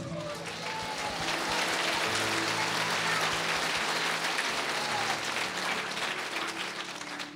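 A church congregation applauds at a Christmas service, steady broadband clapping that swells and holds for several seconds, with faint voices underneath.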